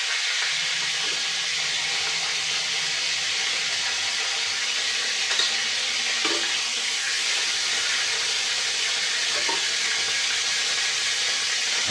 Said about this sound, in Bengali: আমার বন্ধুরা কাতলা মাছ ভাজা হয়ে গেছে।